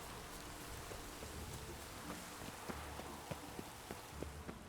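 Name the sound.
rain in the video game Witcher 3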